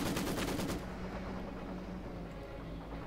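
A 152 mm gun-howitzer fires in Company of Heroes 2: a loud booming shot opens, followed by a long rumbling decay and game-battle ambience with no talk.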